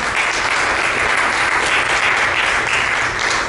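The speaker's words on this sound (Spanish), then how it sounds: "Dale un aplauso al Señor." A church congregation claps for the Lord during a Spanish-language sermon, producing dense, loud, sustained applause close by that continues without a break.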